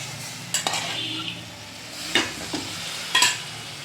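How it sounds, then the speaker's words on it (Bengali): Tomato masala for a Bengali prawn curry stirred in a pan, soft sizzling under several scraping and clinking spatula strokes against the metal, close and intermittent, with no talking. "টমেটো যখন দিয়ে দেওয়া হবে পোড়া লাগবে ভালো করে দিয়ে নেড়ে দেওয়া হবে"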